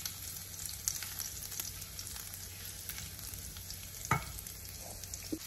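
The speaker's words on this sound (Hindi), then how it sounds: "एक पैन में मैंने ऑयल गर्म होने को रख दिया था, इसमें मैं डाल दूंगी गार्लिक क्लोव्स, इसको हम हल्का सा सॉटे करेंगे।" Garlic cloves sautéing in hot oil in a pan, a faint steady sizzle with occasional light stirring clicks, no talking.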